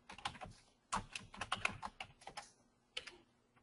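Bursts of quick clicking keystrokes on a computer keyboard, fairly close and quiet, typed in uneven clusters with short pauses between them.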